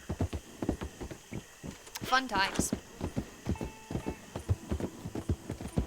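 A horse in Red Dead Online trots with steady, rhythmic clip-clopping hooves throughout and gives a brief whinny midway, while a person talks over it.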